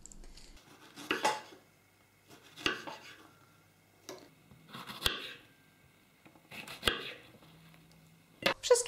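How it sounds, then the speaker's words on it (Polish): Hulled strawberries are cut into thick slices with a knife on a board, six separate crisp knife strikes spaced a second or two apart, close and clear with quiet gaps between them. "Odrywamy szypułki i kroimy takie grubsze plasterki"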